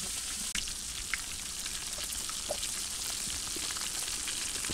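Pieces fry in oil in a pan for a katla fish and potato curry, with a dense, close crackling sizzle that runs steadily throughout. Faint scattered pops sound over it, and no one speaks.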